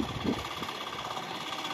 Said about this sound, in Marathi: ट्रॅक्टर आहे, मिनी ट्रॅक्टर.